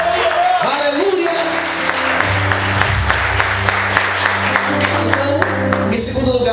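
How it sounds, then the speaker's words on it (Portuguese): A church congregation applauds, a steady wash of clapping lasting several seconds over a low, sustained musical tone, with voices mixed in. "Você pode aplaudir o Senhor bem forte."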